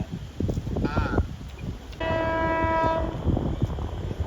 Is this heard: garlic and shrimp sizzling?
no